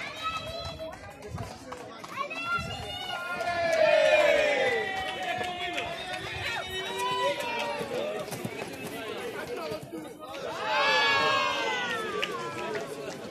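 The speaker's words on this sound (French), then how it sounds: "La foule en délire" Lively outdoor crowd of supporters cheering and shouting at a Camargue gardian games event with Manade du Joncas bulls, with swelling whoops around the middle and again near the end, mixed with chatter and a close voice talking throughout.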